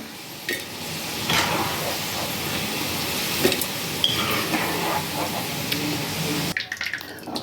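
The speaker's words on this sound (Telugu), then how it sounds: "మంచిగా గోల్డెన్ బ్రౌన్ అయ్యేదాకా ఫ్రై చేసుకోవాలి" Bitter gourd frying in oil and stirred until golden brown for a pickle, a continuous close sizzle with scraping stirring strokes, ending abruptly near the end.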